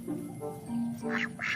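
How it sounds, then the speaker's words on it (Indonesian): A duck quacks a few times in quick succession, clear and fairly close, amid a toy animal cleaning scene with faint background tones. "Wadidaw, ada bebek."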